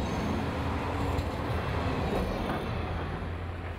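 A tram rolls by in Amsterdam with a steady, loud, broadband rumble and rail noise that holds for several seconds, then eases slightly near the end.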